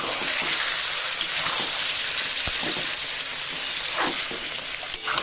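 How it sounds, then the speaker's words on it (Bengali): Raw jackfruit with green chilies and peas is sautéed in a pan for a jackfruit and shrimp curry, giving a steady, dense sizzle broken by occasional soft clicks of stirring. No voices. "আমি আস্তে আস্তে এঁচড়টাকে কষিয়ে নিচ্ছি"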